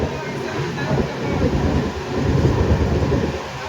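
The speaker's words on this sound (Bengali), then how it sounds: "চলছে ভাই, বিশাল হাওয়া" Rushing wind roars around the moving Shatabdi Express train from Howrah to New Jalpaiguri, a loud, steady blast of air with a low rumble that swells slightly midway and never lets up.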